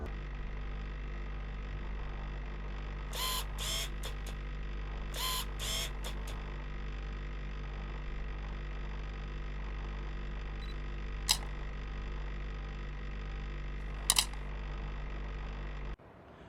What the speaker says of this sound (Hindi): वो सोच भी कैमरे के साउंड इफेक्ट्स के साथ में रहा।